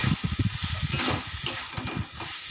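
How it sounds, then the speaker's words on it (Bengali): Small-cut potatoes stir-fried in a pan while preparing a crab curry, giving a close, steady sizzle broken by repeated scraping and clinking stirs, with no talking. "তো আলুটা দিয়ে একটু ভালো করে কষে নেবো।"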